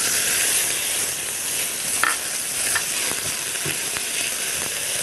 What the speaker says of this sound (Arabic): خلي بالك انها سخنه قوي. اوكي ننزل التوم.